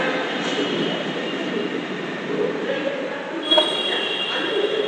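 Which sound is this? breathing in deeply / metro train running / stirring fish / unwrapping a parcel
metro train running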